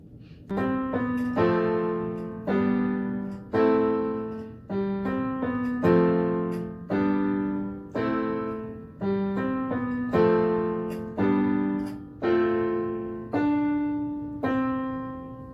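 Repeated tonal phrases in a steady pulse, carrying the three-part vocal harmony of a gospel song, heard alone without speech.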